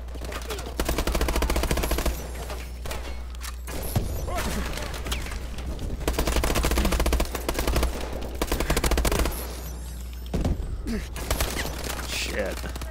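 Gunfire in the video game Call of Duty: Advanced Warfare: dense bursts of rapid automatic fire repeating across the span, loud and busy, with short lulls and voices present.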